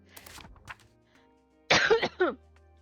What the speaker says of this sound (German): Ja, ich huste immer noch ein bisschen, aber das ist normal.